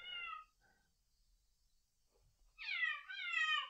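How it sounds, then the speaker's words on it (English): A cat meows once briefly, falls quiet, then lets out a louder, drawn-out meow close by, with faint background noise between. "She's meowing at the door."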